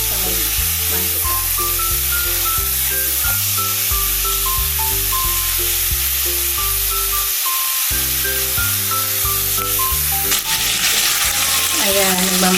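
Pork sizzles and fries in a pan while being stirred, a constant hiss running under loud, steady background music.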